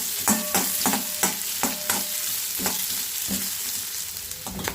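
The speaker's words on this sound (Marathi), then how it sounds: "कांद्याला मी असं एक जरा लालसर होईपर्यंत भाजून घेणार आहे व्यवस्थित" Chopped onion frying in hot oil for a Kolhapuri whole masoor curry, a steady sizzle broken by repeated sharp scrapes of a spoon stirring the pan, close and fairly loud with no talking.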